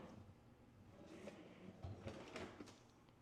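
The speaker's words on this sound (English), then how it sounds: "Even right over here, your trash drawer." A kitchen trash drawer in a model home slides on its runners, producing soft rolling scrapes and a few light knocks that build to a gentle close, quiet and near with no talking.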